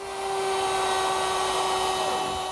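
A router with a 1/2 inch roundover bit cuts along teak counter edges, a steady high whine with a strong sustained tone, loud and close, alone without speech.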